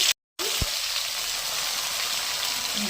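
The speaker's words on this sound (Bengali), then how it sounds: "এবার টমেটোগুলো ভেজে নেব।" Tomatoes fry in a pan with a steady, close, loud sizzling hiss that drops out for a moment near the start, then continues evenly to the end without any voice.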